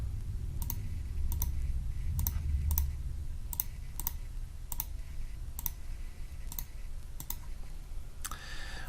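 Sparse clicks on a computer keyboard, about a dozen separate keystrokes at an uneven pace against a low hum, ending in a quick burst of taps.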